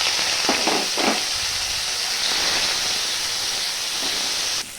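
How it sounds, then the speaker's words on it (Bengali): Prawns coated in salt and turmeric dropped into hot oil, giving a loud, steady, hissing sizzle with a few bubbling bursts near the start, ending in a sudden drop to a softer hiss; no speech. "গরম তেলের মধ্যে আমি দিয়ে দেব আগের থেকে নুন হলুদ দিয়ে মেখে রাখা চিংড়ি মাছ"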